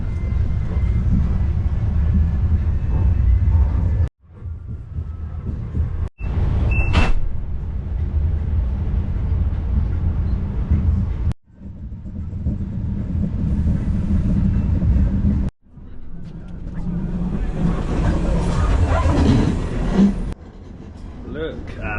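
Steady low rumble of a train rolling along rails between Sarajevo and Mostar, Bosnia, near Konjic, with brief dropouts and a passing high squeal, second-class interior ride noise throughout.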